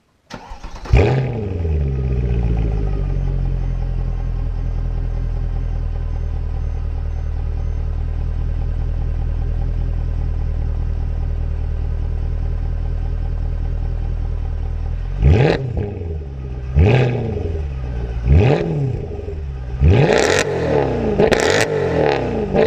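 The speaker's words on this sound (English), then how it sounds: "We're gonna start it up, give it a few revs, and let me know what you think." A modified Mercedes-AMG C63 507 Edition V8 cranks and fires into a loud, steady idle, then gets a series of sharp throttle blips and revs toward the end, close and alone.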